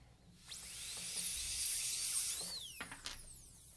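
A dental drill burr being cleaned on a diamond stone whines in a high, thin tone in a few short bursts, the pitch gliding up and down as it spins against the stone, quiet and close.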